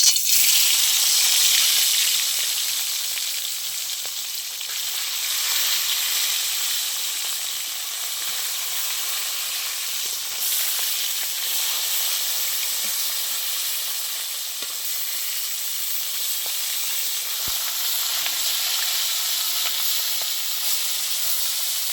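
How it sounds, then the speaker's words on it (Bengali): Katla fish heads fry in hot white oil in a kadai, giving a loud, continuous close-up sizzle and hiss that stays strong and even for the whole stretch with no talking. "তেল গরম হয়ে গেছে আমি দিয়ে দেবো এবার মাছের মাথা"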